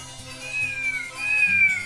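A cat meows twice in quick succession, drawn-out and close, with a slightly rising then falling tone.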